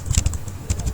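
Code typed on a computer keyboard, a quick burst of several close key clacks, then a short pause and a few more taps.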